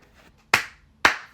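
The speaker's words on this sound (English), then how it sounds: "That deserves a damn round of applause" Two sharp, loud hand claps about half a second apart, each ringing briefly before fading, with quiet room sound around them.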